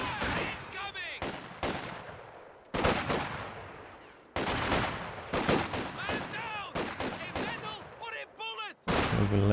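Rifle and machine-gun fire in the Company of Heroes 2 strategy game as SVT-armed Soviet conscripts fight German Grenadiers in the open, with repeated sharp bursts and volleys broken by brief pauses.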